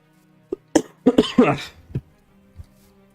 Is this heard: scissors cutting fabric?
no